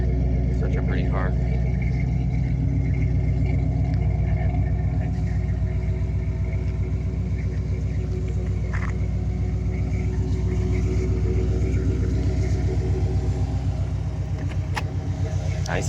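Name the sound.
1956 Chevrolet 150 dual Flowmaster exhaust rumbling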